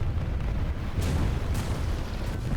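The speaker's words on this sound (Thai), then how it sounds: "เสียงระเบิดทำให้ผมไม่กล้าออก" Heavy rumbling explosions boom continuously with sharp bursts cutting through, a dense, loud barrage of tank-battle blasts in the game War Thunder, with no talking.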